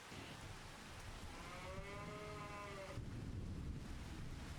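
Steady rain hisses over a farm in Farming Simulator 25, a continuous wash of noise with a cow mooing once partway through.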